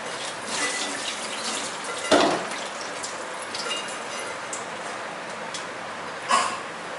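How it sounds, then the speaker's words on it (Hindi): Running water splashes steadily into a sink as soaked chana dal lentils are drained, with a couple of louder splashes as water drains off. "ड्रेन कर लेंगे पानी को सबसे पहले।"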